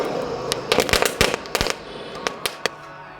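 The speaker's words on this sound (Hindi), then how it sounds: "जो कि ये है दीवाल बम। तो चलिए हम इसको जमीन पर मारते हैं" Diwali wall bomb firecrackers slammed onto the ground, giving a string of sharp, loud bangs, several close together early and then a few separated cracks, with no talking.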